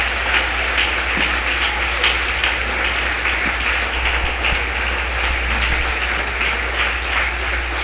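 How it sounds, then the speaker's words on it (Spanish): Church congregation clapping loudly in praise during a worship service, a dense, sustained roar of applause filling the hall without a break, with a low steady hum underneath. "Dale fuerte el aplauso a la presencia de Dios."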